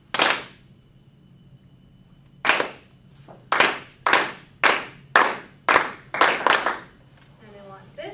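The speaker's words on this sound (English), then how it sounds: "Now I want this half of the class to clap again" A class of students claps in short synchronized bursts: one clap, a pause, then a run of about eight even claps in a steady rhythm, fairly close in a quiet classroom.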